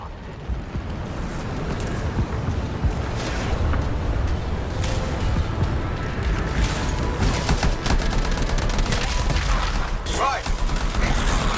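Gunfire in the video game Anthem crackles in dense, continuous bursts with booming impacts throughout, loud and chaotic, with a voice briefly heard near the end.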